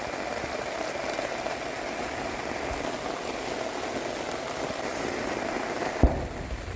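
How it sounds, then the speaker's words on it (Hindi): Heavy rain pours down in a steady, dense hiss with no voices, and a brief sharp knock comes near the end. "बारिश बहुत तेज़ हो गई है।"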